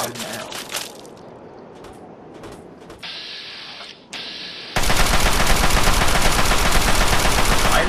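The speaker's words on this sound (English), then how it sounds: "where am I getting shot by now?" Rapid automatic gunfire from a Fallout 3 firefight, bursts starting sparse and then becoming a loud, sustained, dense stream of shots, with a player talking over the action.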